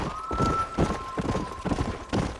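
Horse galloping in the video game Red Dead Redemption, rhythmic thudding hoofbeats close by with a faint tonal hum in the background.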